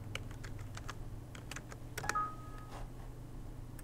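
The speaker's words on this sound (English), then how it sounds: "So in this cell, we just type equals" Computer keyboard keys tapped while working in Excel, a few quiet scattered clicks over a low background hum, with one brief electronic beep partway through.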